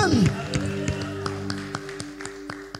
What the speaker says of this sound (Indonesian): Tepuk tangannya kencang buat Allah kita.